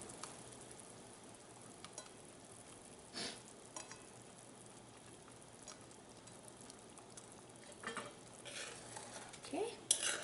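Spinach kofta (palak kofta) curry gravy boils in a pan, giving a faint, steady bubbling hiss with a few soft clinks and taps.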